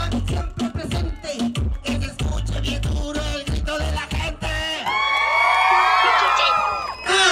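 A crowd claps in a quick rhythm at a lively gathering with shouting voices over it, then breaks into sustained cheering and whooping.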